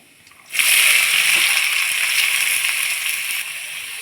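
Sliced large onions drop into hot oil with popping mustard seeds while an egg masala gravy is cooked. A loud, sudden hiss bursts in and settles into a steady, close sizzle.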